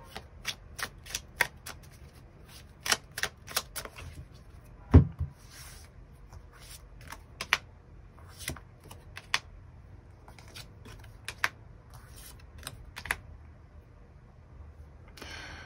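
Tarot cards are shuffled and drawn, giving many sharp dry clicks and flicks in irregular bursts with one heavier tap midway, close and fairly quiet, with no talking.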